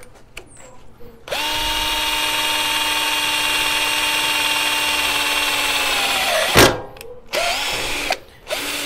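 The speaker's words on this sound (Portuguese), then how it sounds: "Então eu vou usar essa parafusadeira da Enro, tá bom?" An Enro cordless power screwdriver whines steadily at high speed for about five seconds as it drives a screw into steel angle, then stops with a sharp clack and a few handling knocks.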